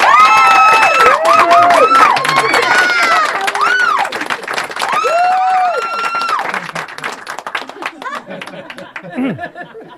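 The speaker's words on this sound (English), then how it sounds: "A round of applause, thank you very much." A studio audience claps and cheers at the premiere of a live talk show, dense applause with whoops and shouts that starts loud and then thins and fades toward the end.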